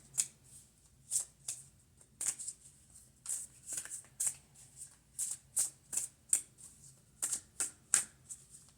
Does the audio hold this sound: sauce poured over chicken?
no